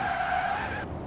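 A monster truck in the Forza Horizon 4 racing game brakes hard into a loud, sustained tire skid lasting about a second, squealing steadily before cutting off abruptly near the end.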